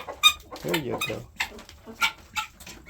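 Farm birds, a rooster and guinea fowl, give short, scattered calls close by, mixed in with a person talking.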